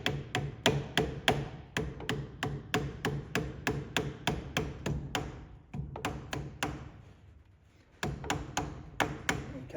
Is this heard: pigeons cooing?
no